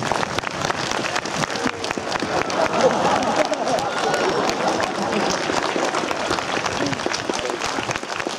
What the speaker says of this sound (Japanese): 秋田の松田正俊選手、今一度大きな拍手を送ります。